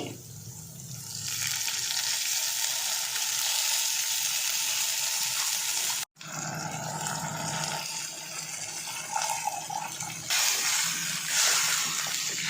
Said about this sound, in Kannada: ಈಗ ನೆನೆಸಿಟ್ಟಿರೋಂಥ ಹುಣಸೆ ರಸ ಹಾಕ್ತಾಯಿದ್ದೀನಿ